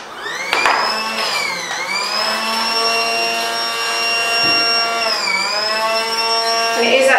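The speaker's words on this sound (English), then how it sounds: "And it is actually hoovering up," A Casdon toy Dyson cord-free vacuum cleaner hoovers up rice grains, its small motor giving a steady, high-pitched whine that dips briefly in pitch twice and stays loud and close throughout.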